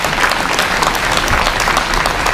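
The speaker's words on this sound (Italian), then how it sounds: "anzi vorrei facessimo un applauso immediatamente" An audience at an Italian political debate applauds steadily, a dense patter of many hands clapping at an even, fairly loud level throughout.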